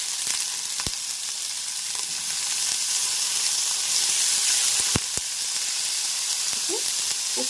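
Amaranth stems fry in a pan with a steady, loud sizzle and hiss, broken by a few sharp clicks and clinks of a utensil.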